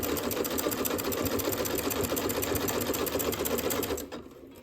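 A sewing machine stitches slowly down and across a terry cloth bath mitt. It gives a steady, close mechanical whir for about four seconds, then winds down and stops.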